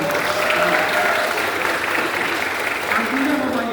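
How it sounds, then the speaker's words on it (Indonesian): An audience at an alumni address claps steadily throughout, a close, even round of applause with voices mixed in. "Tepuk tangan dulu untuk dia."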